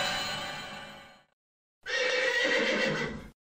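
A horse neighs loudly and close by, two long whinnies separated by a short silence, with no talk over them.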